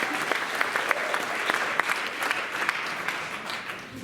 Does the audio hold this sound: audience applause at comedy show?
yes